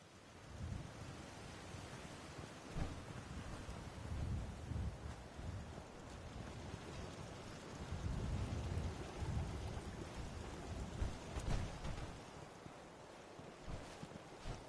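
Steady rain and a rumbling video game thunderstorm, soft and fairly faint, with low thunder rolls swelling and fading beneath the constant patter.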